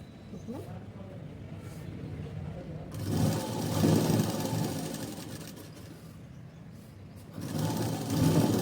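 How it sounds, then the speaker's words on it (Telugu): A sewing machine stitches the main cotton cloth of a plain blouse, running in steady mechanical bursts that swell louder around the middle and again at the end, with speech over parts of it. "మెయిన్ క్లాత్ని స్టిచ్ చేయాలి"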